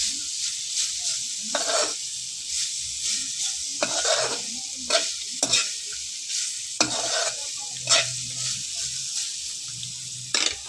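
Carrots and other vegetables are stir-fried in a pan, with a steady sizzle broken by repeated scraping strokes of a spatula stirring and tossing them, and no voices.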